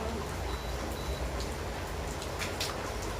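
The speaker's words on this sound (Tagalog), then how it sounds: "Sobrang ulan, lakas ang ulan." Dense, continuous hiss of heavy rain falling, a constant wash of sound with faint patters on top; no voices.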